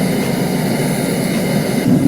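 Gas-fired burner on a homemade metal foundry, a loud, steady low rumbling roar with a broad airy hiss on top, continuous and close with no talk.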